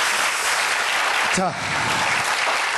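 Audience applause at a televised startup talk show, a steady wash of clapping that carries through the whole moment, with a brief spoken word near the middle.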